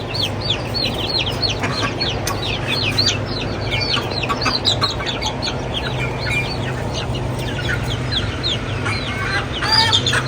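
Hens and a rooster cluck steadily and close by, a dense chorus of repeated clucks and squawks over a constant low background hum.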